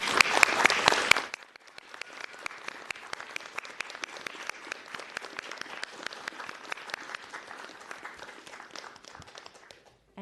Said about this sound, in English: So I hope we'll break from protocol a little bit just to give Claudia a round of applause